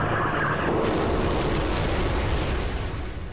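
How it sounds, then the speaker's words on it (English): A huge wartime explosion involving the Japanese submarine I-52 booms and rumbles continuously, loud and dense across the whole span before tapering slightly at the end, with no voices. "A huge explosion was heard."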